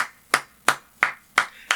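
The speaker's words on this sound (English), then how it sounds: "golf clap to you for holding back" Five slow, sharp hand claps of a polite golf clap, evenly spaced about a third of a second apart, close and isolated with no other sound.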